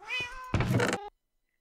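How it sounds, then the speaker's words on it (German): A cat in the video game Minecraft gives a clear meow, followed by a louder, noisier cat sound, both close and loud, then silence. "Katzen?"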